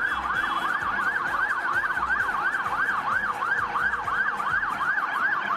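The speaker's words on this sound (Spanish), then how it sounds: "Y así escuchamos algunas bocinas, algunos autos que tienen bocinas gigantes" Loud wailing siren, likely from a fire truck carrying a national football team through a street celebration in Panama, rises and falls in a steady rapid cycle and sounds continuously close by, with traffic beneath it.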